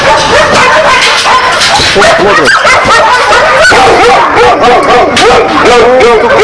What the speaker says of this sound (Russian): Вот собака голодная, просит еды.